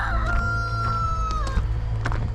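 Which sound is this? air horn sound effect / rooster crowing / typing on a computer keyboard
rooster crowing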